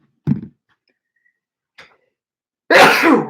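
A single loud, explosive sneeze near the mic, preceded by a couple of faint breathy sounds, then a short burst of noise.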